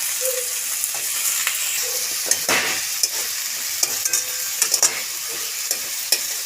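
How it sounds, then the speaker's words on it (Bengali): Malabar spinach (pui shak) stir-fries with spices in a pan, a loud steady sizzle punctuated by frequent sharp spatula clacks and scrapes against the pan. "আমি এরপর এই পুঁইটা দিয়ে এটা খুব ভালো করে কষিয়ে নেব"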